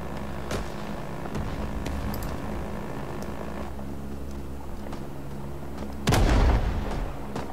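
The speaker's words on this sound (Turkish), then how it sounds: "Bomba sesi geldi" Bomb blasts and gunfire in the Vietnam War game Rising Storm 2: Vietnam, a steady rumble of distant shots and impacts building to one heavy, close explosion near the end.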